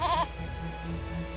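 A goat in the game Eternal Sonata lets out a short, wavering bleat that stops quickly, leaving a low background hum.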